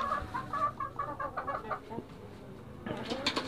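Nearby Akayi chickens cluck busily in short bursts, with a brief louder squawking flurry near the end.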